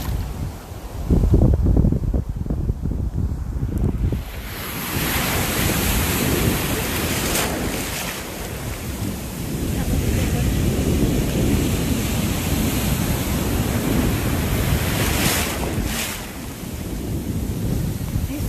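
Ocean waves roar and crash continuously, mixed with heavy wind buffeting the microphone, surging louder in several swells.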